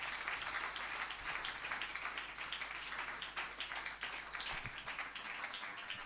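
A church congregation applauds at a youth gathering, steady dense clapping that holds evenly throughout at moderate distance.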